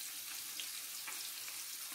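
Crucian carp fry in a pan with a steady, even sizzle and faint crackling pops that hold at a constant level throughout, with no talking over them.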